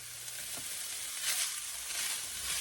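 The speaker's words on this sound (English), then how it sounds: "I've got a half of a white sweet onion I'm going to saute with this" Half a white sweet onion sautés in a skillet for a beef and zucchini dish, a steady close sizzle with soft stirring underneath and no talking.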